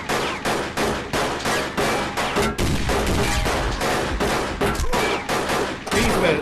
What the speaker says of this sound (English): he gets shot with shotgun and then the truck explodes. Nice set of explosions.